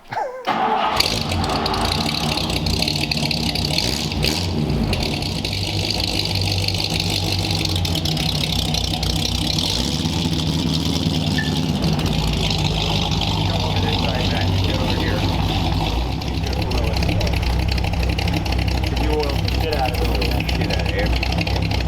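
A 1938 Ford convertible with true dual exhaust starts with a sharp crank and catches, then settles into a loud, continuous rumbling idle close by, while people talk over it.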